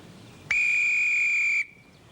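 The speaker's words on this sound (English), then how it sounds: "I'm due to blow the whistle in 30 seconds." A whistle blown in a wartime setting gives one long, loud, steady shrill blast of about a second, starting abruptly and cutting off cleanly against quiet background.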